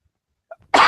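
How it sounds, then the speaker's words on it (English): A single short, loud cough after eating spicy food, sharp and close, coming after near silence. "See, I told you I'll cough"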